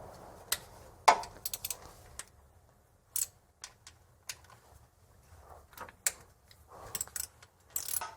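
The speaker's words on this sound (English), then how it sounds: "3 10 millimeter bolts. I'm gonna go ahead and take those loose." Ratchet work loosening three 10 mm bolts on a timing tensioner of a Porsche 986 engine: sparse, quiet clicking bursts and short metallic ticks scattered across the span, with near-silent gaps between.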